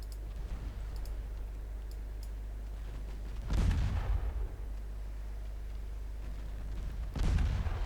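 Heavy naval gunfire from warships in Ultimate Admiral Dreadnoughts, two loud booming salvos a few seconds apart over a steady low rumble of sea and engines.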